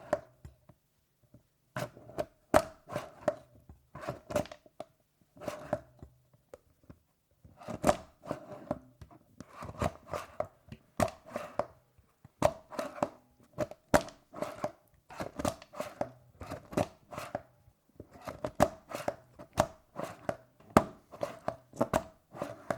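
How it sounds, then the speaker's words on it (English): Cherries being pitted for a cherry ricotta cake: crisp clicks and thunks come in quick repeated bursts, close and distinct, with short pauses between runs and no talking. "Let's start by pitting the cherries."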